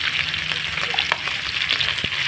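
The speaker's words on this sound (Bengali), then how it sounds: "এইভাবে মাছটা ভেজে নেবেন।" Fish fries in hot oil in a wok, a loud, steady sizzle with crackling pops and a few sharp spits, and no talking.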